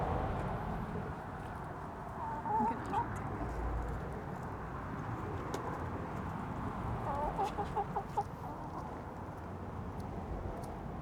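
Chickens eating corn cluck softly and intermittently nearby over a low, quiet background, with a couple of short bursts of clucking.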